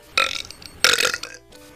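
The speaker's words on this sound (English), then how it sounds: "Well, that was one of them nasty burps." A loud, drawn-out human burp in two long bursts, the second following a short pause and trailing off, with nothing else heard.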